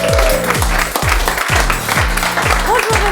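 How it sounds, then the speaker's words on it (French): TV studio audience applause for a guest arrives as a steady wash of clapping beneath loud, pulsing music with a repeating bass thump, filling the whole stretch. "je vous demande un tonnerre d'applaudissements pour Joseph"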